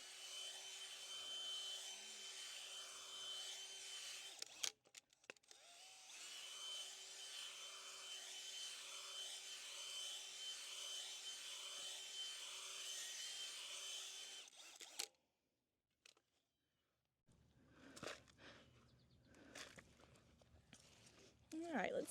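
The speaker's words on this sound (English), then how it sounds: "just kind of give this a big little mix with my power planter" A power planter auger churns Biotone and compost into hard clay soil in a planting hole, a steady loud grinding whir running for about fifteen seconds before cutting off, followed by rustling and soft scraping.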